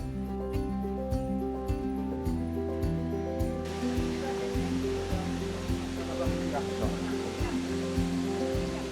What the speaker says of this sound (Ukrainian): Першочергово ми прямуємо до найбільшого водоспаду.